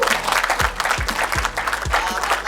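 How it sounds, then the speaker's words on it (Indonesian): An audience bursts into sustained applause, a dense, steady patter of many hands clapping with a few louder individual claps standing out, and no one talking over it. "tolong tepuk tangan untuk beliau."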